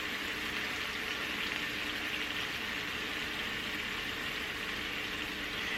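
Jerk salmon fries in a pan, giving off a steady, dense sizzle that holds at an even level for the whole stretch with no voices over it.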